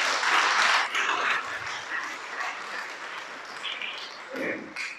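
A church congregation bursts into applause, loudest at the start and then settling into steady clapping that continues at a lower level.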